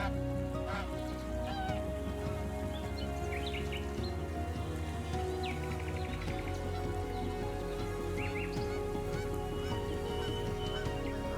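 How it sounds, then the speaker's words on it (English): Canada geese at a pre-migratory gathering on a bay honk repeatedly, many calls overlapping at varying distances over a constant wash of rain-like background noise. "Canada geese gather, preparing for their southward journey, and their distinctive vocalizations create a constant backdrop"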